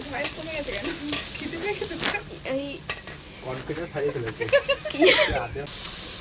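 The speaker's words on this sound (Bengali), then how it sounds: "দেখুন উনুনে আগুন জ্বলছে আর কড়াইতে পেঁয়াজ ভাজা হচ্ছে" Onions fry in a kadai over a lit outdoor clay stove at a moonlit picnic, a soft sizzle and the occasional stir scrape sitting under people talking nearby.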